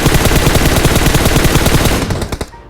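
Sustained automatic gunfire in PUBG Mobile, a steady rapid stream of loud, close shots aimed into a smoke cloud, ending in a few scattered bursts as it cuts off.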